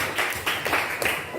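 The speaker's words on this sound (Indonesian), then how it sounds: "Tepuk tangan untuk siapa?" Group applause from students in a classroom, a short burst of several quick claps blending into a steady patter for about a second and a half.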